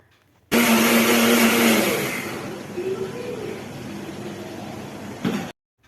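A loud mixer grinder whirs at full power grinding tomatoes, then its motor winds down with a falling whine, ending with a brief clunk.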